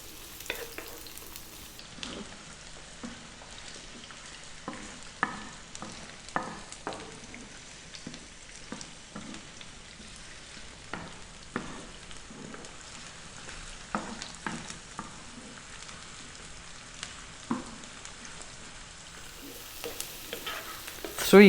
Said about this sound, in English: Let's drop in our onion and our garlic.